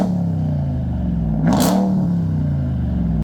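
A 2022 RAM TRX pickup's engine sounds through its massive exhaust tips, a deep steady idle rumble broken by one sharp rev that swells and settles back, heard up close.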